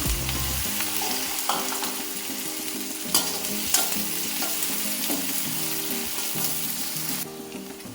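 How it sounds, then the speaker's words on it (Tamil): Spring onion whites frying in a pan, a steady close sizzle with occasional stirring clicks and scrapes throughout, no voices. "ஸ்ப்ரிங் ஆனியன் உள்ள ஆனியன் மட்டும் போட்டு ஃப்ரை பண்ண போகிறோம்"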